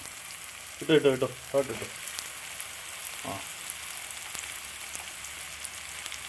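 Two medium onions, sliced lengthwise, fry in hot oil in a pan for a tender papaya curry, giving a steady soft sizzle throughout. A voice speaks briefly near the start.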